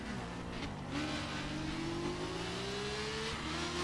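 A Ducati engine revs in a multiplayer driving video game, a steady mid-pitched drone that climbs smoothly in pitch as it accelerates, loud and continuous with no speech.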